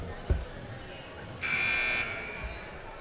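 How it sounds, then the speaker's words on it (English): A basketball game buzzer in a gym at a women's championship sounds once, a steady electronic tone held for about half a second, mid-loud over room noise, with a dull thump just before it. "That buzzer sound can only mean one thing."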